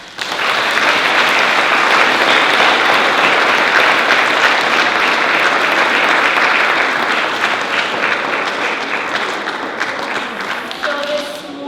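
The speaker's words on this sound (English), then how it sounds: "Can you give them a round of applause?" An audience at a school morning assembly claps for a grade 3 class, a dense sustained round of applause that stays loud throughout, with a few voices mixed in.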